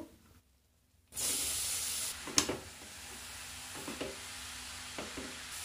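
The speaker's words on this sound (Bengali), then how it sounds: "খুব ভালো করে সুজিটাকে আগে ভেজে নেব" Semolina and grated carrot stir-fried in a pan over a low gas flame for carrot laddu, a soft steady sizzle starting after a near-silent second, broken by a few scraping stirs of the spoon.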